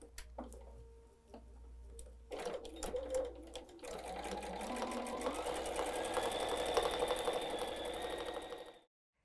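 A sewing machine runs a quarter-inch seam on a tote bag: a few short bursts of stitching, then a continuous fast mechanical whirring that holds steady before stopping abruptly, close and with no speech.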